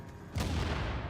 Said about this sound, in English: Let's toss a grenade now.